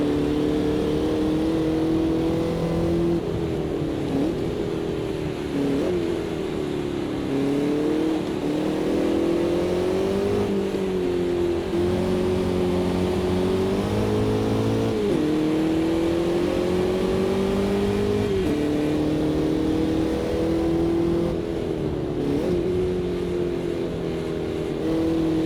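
Formula Vee Gen2 race car engines in the AMS2 racing game, a full pack of about two dozen cars on track, with a loud, steady engine drone that rises and falls through repeated gear changes and revving, and no talk.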